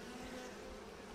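Honeybees buzz on a hive frame as the queen walks among workers, a faint, even hum holding steady for about a second.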